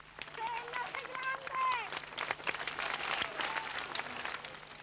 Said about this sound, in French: de simples applaudissements